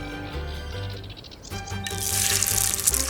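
Egg-coated fish hits a hot pan and sizzles, a bright hissing crackle that rises and spreads after a few soft clatters of handling.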